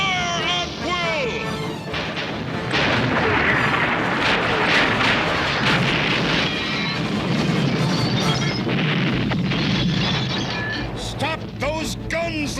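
Ship guns fire in a cartoon naval battle, with repeated booming blasts and crashing impacts layered over a loud, dense din. Shouted voices cut through the barrage, and a high siren-like wail sounds at the start.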